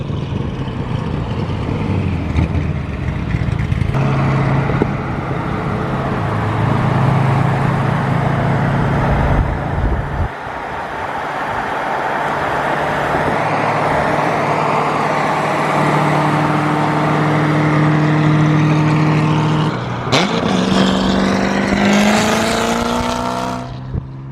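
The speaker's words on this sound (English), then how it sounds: "I don't think the camera does any justice to how loud that damn car is" A 1000-horsepower Chevrolet Corvette C7 Z06 roars loudly and up close, its engine droning steadily before revving with rising, climbing tones toward the end, with no talk over it.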